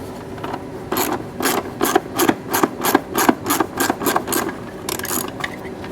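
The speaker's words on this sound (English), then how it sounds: "we're going to take our Torx bit, and start moving the Torx bolts that are there" Torx bit backing bolts out of a cowl panel on an R53 MINI Cooper S, a close, loud ratcheting rasp in a quick run of about a dozen even clicks, pausing, then resuming briefly.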